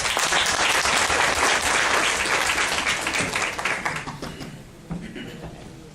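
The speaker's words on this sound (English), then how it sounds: "A round of applause for our panelists." An audience at a university book launch applauds the panelists with loud, full clapping that thins out after about three seconds into scattered claps as voices begin to speak.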